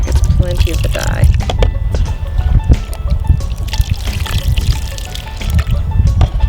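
Shibori dye poured steadily over bound fabric to make a shower curtain, a close continuous trickling and splashing of liquid that runs throughout, with a person talking over it.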